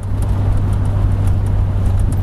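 A car cruising down Keel Street past a muscle car shop, giving a steady close engine hum and road rumble with no voices.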